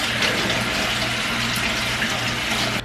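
Pumpkin pieces rinsed under running tap water, a steady, close, loud rush of water splashing continuously with no talk over it.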